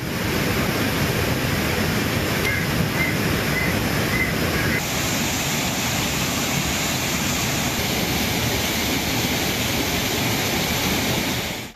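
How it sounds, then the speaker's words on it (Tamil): Thirparappu waterfall in flood, its water rushing aggressively, gives a dense, loud, unbroken roar of broadband rushing noise that stays constant throughout with no voices. "திற்பரப்பு அருவியில் ஆர்ப்பரித்து தண்ணீர் செல்கிறது."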